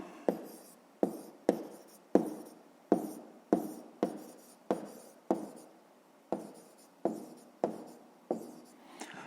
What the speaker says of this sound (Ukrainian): Ну і напишемо пояснення в дужках.